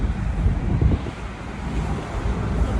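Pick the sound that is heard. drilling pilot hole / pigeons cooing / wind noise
wind noise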